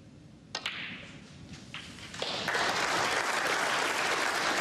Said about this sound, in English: The crowd applaud because the disappearance of that black, as you can see, puts him 36 ahead